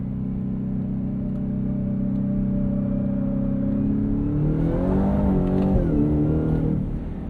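A 2024 Ford F-150 Raptor R with a 720 hp V8 revs hard as its exhaust valves open, the engine note climbing and wavering loudly, close up, through several seconds of acceleration.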